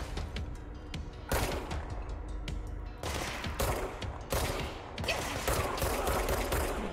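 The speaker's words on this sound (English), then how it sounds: "I'm gonna shoot these guys before they shoot me." Sustained automatic gunfire in the video game Control, rapid shots in dense bursts that break off and resume, loud and continuous across the stretch with no talk over it.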